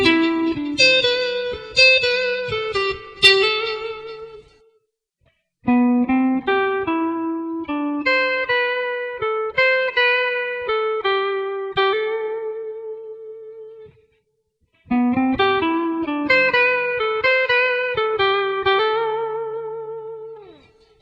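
Electric guitar run through effects plays a diatonic scale lick in pattern 5, three bursts of quick picked single-note runs with short pauses between them, clean and close with a light distorted edge and reverb tail.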